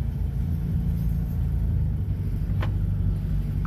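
An idling car engine runs fast and steady, a low continuous rumble close by with no revving, throughout the short stretch and with nobody speaking.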